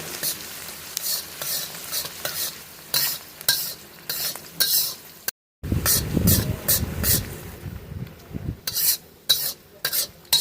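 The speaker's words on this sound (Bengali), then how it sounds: "পেঁয়াজটা আমরা একটু লাল করে ভেজে নেব" Onions frying and being stirred in a pan for a crab kosha curry: a steady sizzle under repeated scraping strokes of a spoon or spatula, with a brief gap and then heavier stirring, close and fairly loud.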